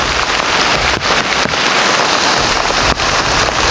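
Heavy rain pouring down outdoors during a search, loud and close with dense, constant patter on surfaces and a few sharp gusty bursts.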